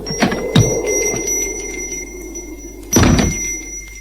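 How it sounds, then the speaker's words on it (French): An office door bursts open as an audiobook sound effect, two heavy thumping knocks with a rattling latch over a steady ringing bell tone, fairly close and loud. "La porte du bureau s'ouvrit soudain à grand fracas"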